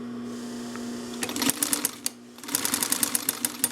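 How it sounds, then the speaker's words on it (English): A Singer 44-9 walking foot industrial sewing machine with a clutch motor hums, then stitches in rapid bursts of sharp, regular needle ticks, pausing briefly before running again, close and fairly quiet with no talking. "drop the presser foot, capture the tails, and just start sewing."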